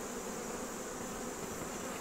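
A thick, unbroken drone of honey bees buzzing nearby, steady in loudness throughout.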